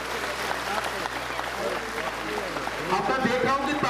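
Schoolgirls at a girls' school in Chamba clap loudly in a welcome for a Kabaddi World Cup-winning player, a dense crowd patter that swells near the end, with voices mixed in.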